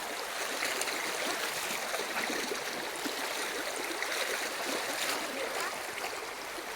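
A river stream flows steadily nearby, a constant bright rushing and trickling of water with no other sound standing out.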